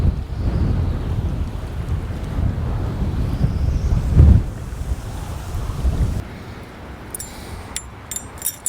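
Strong wind buffets the microphone out on open water during a fall bass fishing trip, a loud continuous roar with a gust peaking midway, then easing to a lower rumble with sharp crackles near the end.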